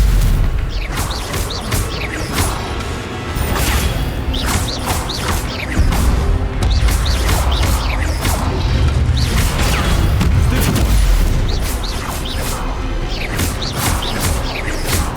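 Stupefy and other spells clash in a Hogwarts Legacy combat fight, giving a dense, continuous stream of booming impacts, crackling bursts and whooshing effects that stay loud for the whole stretch with no voices over them.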